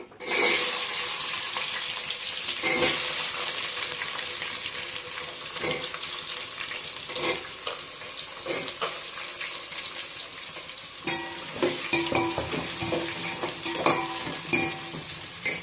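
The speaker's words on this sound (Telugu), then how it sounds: "ఇప్పుడు ఇవి వేగిపోయాయి కదా, కట్ చేసి పెట్టుకున్నాము ఈ ఆనియన్స్ మనం ఆయిల్లో వేసేసుకుందాము." Sliced onions frying in hot oil for a mushroom dum biryani, with a steady loud sizzle and crackle throughout, broken by occasional stirring scrapes and clinks near the pan.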